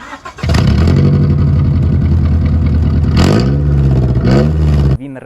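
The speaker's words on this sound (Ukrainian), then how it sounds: "я не хочу гарчати цим автомобілем по наших дорогах і не хочу нікого лякати, тому що він занадто гучний" A loud Honda Accord engine revs hard and continuously, with two sharp rises in pitch as the throttle is blipped, before cutting off abruptly near the end.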